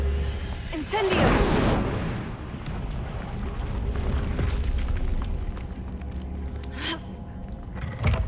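Incendio fire spell cast in Hogwarts Legacy: a loud whooshing burst near the start swells into a crackling, roaring rush that fades out, with a softer burst near the end and a voice speaking over it.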